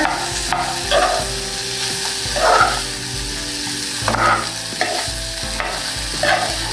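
Pounded ginger-garlic paste and half-cooked potatoes sizzle in a pan, with a steady fry punctuated by repeated scraping stirs of a spoon every second or so, loud and close.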